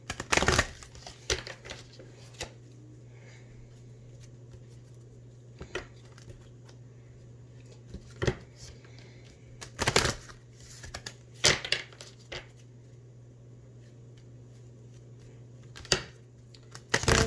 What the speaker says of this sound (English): I'm going to pull a few chakra healing cards.